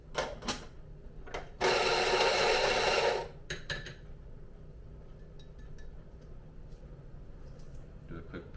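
An electric burr grinder grinds Kenyan Murang'a AA coffee beans at grind size 45, a loud steady whirring burst lasting about a second and a half, framed by clinks and handling noises.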